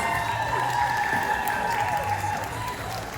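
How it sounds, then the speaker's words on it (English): Audience at a cosplay masquerade applauding, a dense, steady burst of clapping from a crowd heard at moderate level throughout, easing slightly toward the end. "Can we have another round of applause?"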